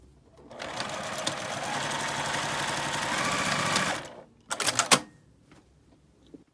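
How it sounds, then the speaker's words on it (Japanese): A sewing machine stitches eco fur fabric for a tote bag, running steadily for about three seconds, then giving a few short, sharp bursts before stopping. "ファーを縫います。"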